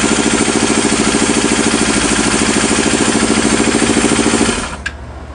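An engine idles with late intake valve closing, giving a loud, steady, even chugging pulse with valve clatter. It cuts off abruptly near the end.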